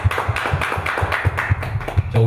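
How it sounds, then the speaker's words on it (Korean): A church congregation claps in praise to God during a Thanksgiving Sunday service, a rhythmic run of evenly spaced claps together before a low tone enters at the end. "하나님께 영광의 박수 드리겠습니다."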